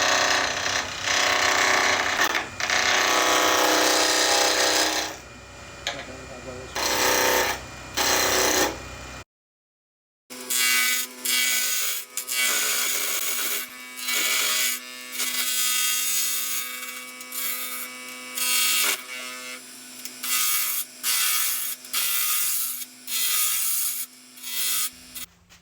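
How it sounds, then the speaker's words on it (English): Wood spinning on a lathe as a turning tool cuts into it, a loud continuous broadband scraping broken by brief pauses and one full stop, with a steady motor hum underneath once cutting resumes. "I've gotten enough wood away that I can move the tool rest closer"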